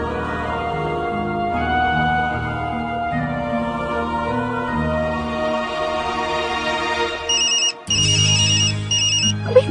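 Ringtone of an incoming phone call, a melodic electronic tune that repeats steadily and loudly, close by with no voices, breaking briefly near the end before a sharper chime.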